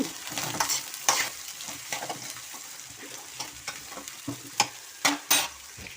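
Bitter gourd pieces fry in a pan while being stirred, a steady sizzle broken by repeated scraping and clattering strokes of the utensil, close up, with no voices.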